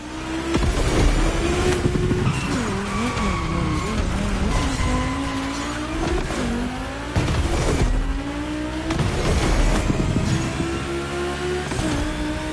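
Volkswagen race cars on a track in The Crew Motorfest, engines droning and shifting pitch as they rev and accelerate, loud and steady with occasional tire noise and no talk.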